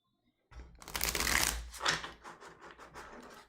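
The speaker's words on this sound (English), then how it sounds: "These are hard to shuffle because they're long." Long tarot cards are riffled and shuffled close up: a sudden burst of dense flapping and scratching, then a second surge, trailing off into quieter rhythmic card taps.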